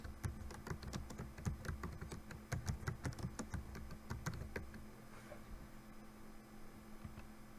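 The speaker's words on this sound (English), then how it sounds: "On the start screen, type Active Directory users and computers." Fingers tap out a search on a computer keyboard, producing a close, rapid run of sharp key clicks for about five seconds before it falls to quiet room hum.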